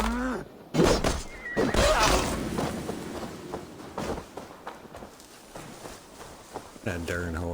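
A horse in Assassin's Creed Valhalla whinnies near the start and again near the end, over game music and sounds of movement, with a character's voice talking in between.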